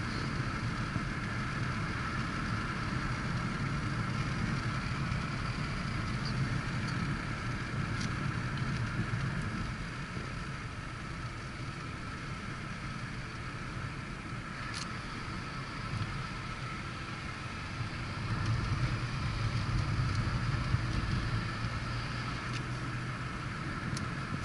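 A car is driven through the Coconino Forest between Sedona and Flagstaff, giving a steady, muffled road and engine rumble with wind noise that stays even for the whole stretch.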